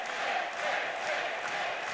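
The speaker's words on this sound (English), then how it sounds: "Crowd getting behind him" Wrestling crowd at an Ultimate X match cheering on Ace Austin, a steady, distant roar of many voices with slight swells.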